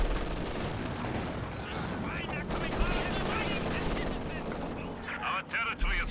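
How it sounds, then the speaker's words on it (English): Machine gun fire in the strategy game Company of Heroes 2, sustained rattling bursts with distant booms in a busy battlefield mix, a voice talking over it in places. "Machine gun doing its thing."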